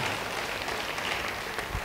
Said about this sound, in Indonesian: Yang mau beri tepuk tangan bagi dia, haleluya.